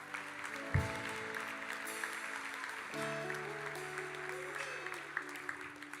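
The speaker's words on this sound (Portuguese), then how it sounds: "Aplauda o Senhor." Congregation applause during a church sermon, moderately faint continuous clapping mixed with sustained organ or keyboard tones and a few low thumps.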